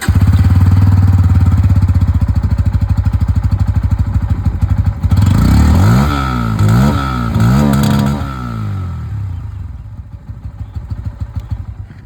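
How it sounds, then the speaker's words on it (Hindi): A Bajaj Pulsar N160 with an underbelly exhaust rumbles loudly at close range, then revs in several rising and falling blips before settling back to a steadier, quieter putter. "अब मैं आप लोगों को यहाँ पर जो N160 की आवाज़ है ये भी सुना देता हूँ।"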